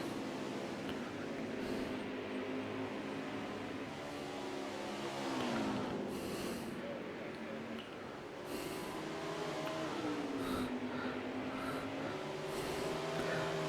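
Race cars in a racing video game event at Watkins Glen brake and accelerate through the bus stop corner, engine notes sweeping down and climbing again over constant engine drone, with several sharp shifts and bursts along the way.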